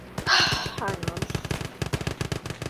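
An MG34 machine gun firing in the WWII game Gates of Hell: Ostfront: a rapid, evenly spaced burst that runs on to the end, with a brief voice over its start.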